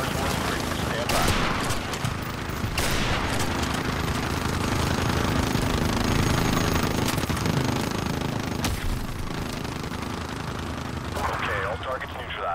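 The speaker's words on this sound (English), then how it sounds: "We are taking heavy fire from a fortified position on the fifth floor." Heavy gunfire in Call of Duty MWR: dense, continuous automatic fire and bursts roar close over a thick combat din while radio voices talk through it.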